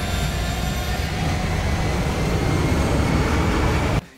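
Roaring aircraft noise from an action-film promo featuring Tom Cruise hanging off a plane, a loud, steady broadband rumble that holds for four seconds, then cuts off abruptly.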